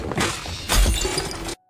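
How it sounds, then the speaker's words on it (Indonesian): A glass bottle smashes with a sharp shattering burst, followed by a second louder crash and tinkling fragments, then an abrupt cut to silence. "Ia meraih botol di dekatnya, memecahkannya, dan bersiap bertahan."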